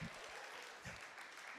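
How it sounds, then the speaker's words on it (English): Audience applause from a crowd welcoming a new staff member, a steady wash of clapping held at an even level throughout with no speech over it. "and they're clapping"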